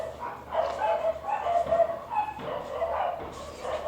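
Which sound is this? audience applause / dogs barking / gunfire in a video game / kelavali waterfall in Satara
dogs barking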